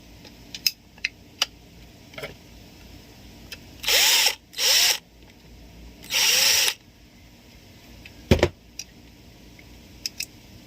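A power driver sets a screw while a slingshot is being assembled, giving three short, loud whirring bursts. Scattered clicks and taps of parts being handled come between them.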